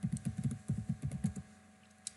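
Rapid, irregular keystrokes on a computer keyboard as a command is typed into an Ubuntu Linux terminal, a close burst of clicks that stops near the end with one last isolated tap.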